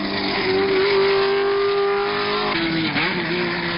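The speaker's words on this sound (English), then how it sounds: "The red Ferrari 512S leads through the hairpin, followed by Joe Siffert in Porsche number 14." Racing cars led by a red Ferrari 512S, with a Porsche following, through the hairpin at the 1970 Sebring 12 Hours. A loud, sustained engine drone holds a steady pitch, then shifts lower as another car passes.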